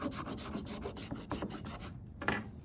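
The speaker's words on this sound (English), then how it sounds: "Now I'm gonna go with one of my files over all of those little marks that I just created." A hand file rasps across a soapstone surface, smoothing out tool marks in steady repeated strokes, close and clear, with a short pause before a final stroke.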